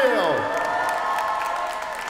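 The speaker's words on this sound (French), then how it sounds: "oui, on peut les applaudir" An audience at a Japan Expo stage event applauds a band, a sustained crowd of clapping with some cheering, while a voice carries over the top through the whole stretch.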